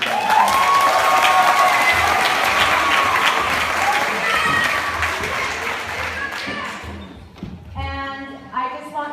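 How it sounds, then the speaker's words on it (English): Audience applause after a school play fills the hall, loud and sustained with some cheering, then fades as a speaker begins addressing the crowd. "So he deserves a huge round of applause."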